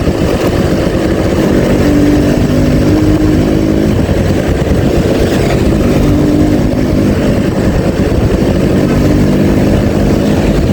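A Yamaha V80 Super Deluxe motorcycle engine drones steadily and loudly throughout while riding, with a continuous low buzzing hum and no voices.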